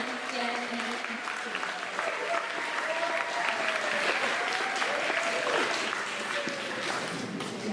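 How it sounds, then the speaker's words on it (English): A room full of people claps continuously, a dense wash of applause with some voices mixed in. "can we also have a round of applause for our comms manager, Leanna"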